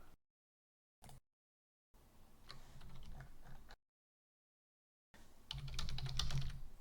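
Keys clatter on a computer keyboard while commands are typed into a terminal on an openSUSE Linux machine, in a few short bursts separated by silent gaps, close and fairly quiet.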